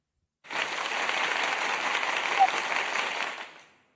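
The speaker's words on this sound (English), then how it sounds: "Let me see if I got a round of applause over here." Studio audience applauding a new United States wrestling champion, a steady wash of clapping that swells in quickly, holds at an even moderate level for about three seconds, then fades away.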